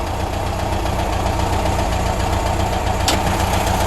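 A 1974 Porsche 914 with a 1.8-liter mid-mounted engine idles close by with its engine lid open, a steady loud rumble with a brief sharp tick near the end.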